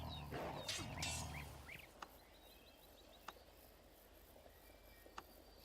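Wolves in the video game Cultures 2 The Gates of Asgard give a burst of growling and snarling near the start. The growls fade into quiet ambient chirps with a few sharp clicks.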